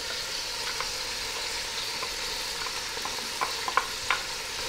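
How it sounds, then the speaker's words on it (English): Chopped onion goes into a hot pan of browned meat for a ragù di carne and is stirred, giving a steady sizzle with scattered scraping clicks of the spoon against the pan. "I want to put the onion."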